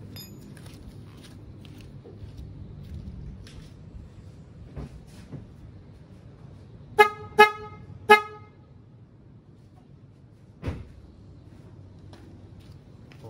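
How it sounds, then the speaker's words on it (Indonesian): Three short, bright toots from an old BMW car horn fitted to a Honda Jazz GD3 sound in quick succession over a low idling hum, followed later by a single dull knock. "Biasa-biasa dipakai klakson BMW zaman dulu"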